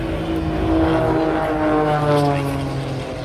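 A propeller aeroplane performing aerobatics at the Air Invictus air show over the Douro river roars close and loud, its engine drone holding steady harmonic tones that swell and ease slightly as it passes.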